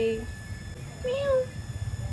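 A cat gives a short meow amid quiet household sounds, with a child's babble and an adult voice nearby.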